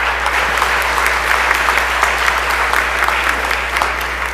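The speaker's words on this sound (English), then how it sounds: "Let's give all of our Alcorn participants a round of applause." On the Mississippi House floor, legislators and guests give Alcorn State participants a full round of applause, many hands clapping steadily and evenly throughout, over a constant low electrical hum.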